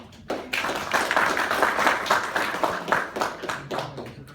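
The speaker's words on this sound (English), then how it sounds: "Give him a good applause" Audience applause at a Techie Thursday tech talk, a dense burst of many hands clapping that starts abruptly and carries on steadily for several seconds.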